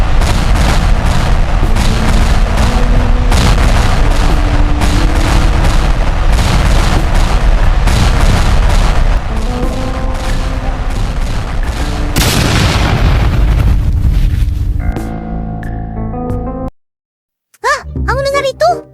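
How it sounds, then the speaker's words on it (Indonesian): Rocket launcher blasts and heavy gunfire in Sakura School Simulator, loud, continuous booming and rapid firing for about fifteen seconds, then a sudden drop, a short silence and brief cartoonish effects. "suara roket, suara tembakan besar"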